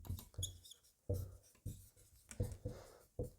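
Chalk or pen tapping and scratching across a board while writing out a chemical reaction during a chemistry lecture, a series of short close strokes in irregular rhythm, quiet and without speech.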